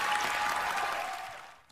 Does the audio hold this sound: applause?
yes